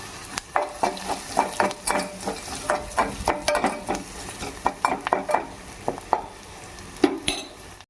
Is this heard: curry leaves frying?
yes